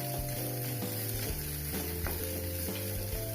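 Roasted gram dal lightly frying in a pan for coriander chutney, a steady sizzle with occasional clinks and stirring scrapes over the continuous hiss.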